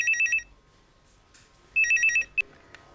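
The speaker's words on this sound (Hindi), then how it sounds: "जरा देखना तो किसका फोन है" A landline telephone rings in a home, two bursts of bright electronic trilling separated by a pause of about a second, loud and close, with a short chirp after the second burst.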